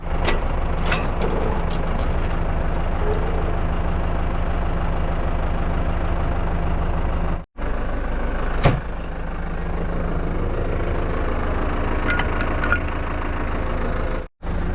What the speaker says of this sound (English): I'm gonna go ahead and start the New Holland here.